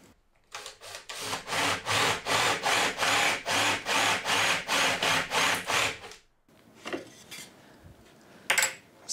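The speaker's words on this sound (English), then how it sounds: "I can drill down through it, hopefully creating a little recess for this to go" A Forstner bit bores through a wooden block fixed over a door keyhole, giving about fifteen even, rasping pulses in a steady rhythm, loud and close, followed by a pause and a few faint knocks and scrapes.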